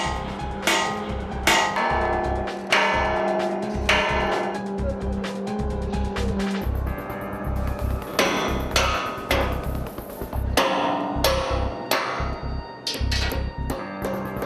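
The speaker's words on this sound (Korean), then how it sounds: "망치질로 지지대 프레임을 옮겨 구멍을 맞춰보는데" Steel support frame of a tower crane being hammered into alignment high on the structure, with repeated loud, ringing metal blows at an uneven pace over a steady background rumble.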